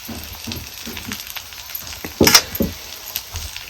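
Onion-garlic masala with red chili powder sizzles in hot oil while being sautéed for a village-style black ghevda aamti, a steady close frying hiss broken by a few sharper spatters and stirring scrapes.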